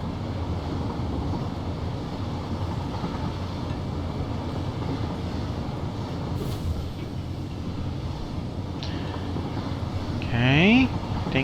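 Train rolling along a track in the video game Satisfactory, a continuous loud rumble with wind-like noise throughout and a short rising whistle-like tone near the end.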